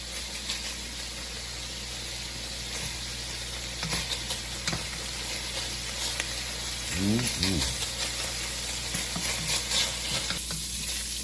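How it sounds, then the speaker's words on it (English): Bacon renders in a pan, the start of a jambalaya, with a steady close sizzle and crackle throughout; a brief voice-like sound rises over it near the end. "your first step is to render your bacon"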